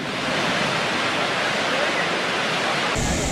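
Muradiye Waterfall rushes with a loud, dense, continuous roar of falling water, steady throughout at close range.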